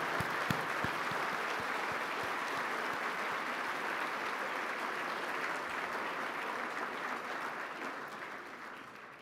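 Sustained audience applause for the winners of a university engineering social entrepreneurship challenge, a dense steady wash of many hands clapping that carries on for several seconds before easing slightly at the end.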